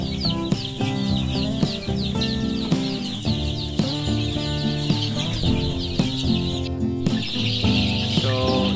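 Eleven-day-old chicks in a brooder house peep constantly in a dense, overlapping chorus of high chirps, close and lively, over a low steady hum.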